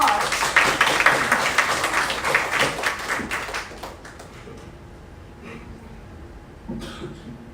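Audience applause at an interbranch grand speech competition, a dense burst of clapping from a crowd that fades after a few seconds, followed by scattered taps and a brief cough.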